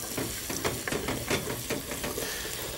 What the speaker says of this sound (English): let's stir fry these for about a minute or two